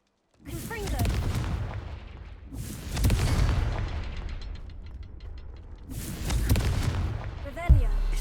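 Confringo spell blasts in Hogwarts Legacy, three loud booming fiery bursts spaced a few seconds apart, each with a rumbling tail, while a voice speaks among them.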